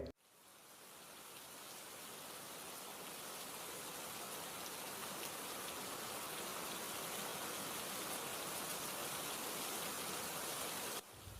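Torrential rain pours down in Murree, a steady, dense roar of heavy rainfall that stays loud and unbroken from start to finish and then cuts off abruptly.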